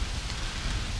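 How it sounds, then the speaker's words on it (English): Warm rain falls steadily during a hilly bike ride, a dense, constant hiss of drops with no break and no talking. "the rain is really warm"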